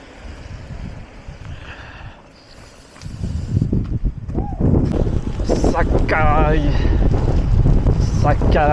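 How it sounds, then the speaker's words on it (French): Wind gusting on the Col du Tourmalet in cold, foggy rain, a steady rushing roar buffeting the microphone, with a voice speaking over it in the second half. "il y a du vent et il pleut."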